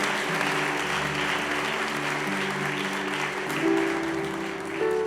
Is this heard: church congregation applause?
yes